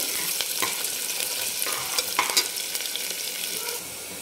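Chopped onion sizzles steadily in hot oil in a pan, sautéing to golden for a spicy black mutton curry, with occasional stirring scrapes over a continuous close frying hiss.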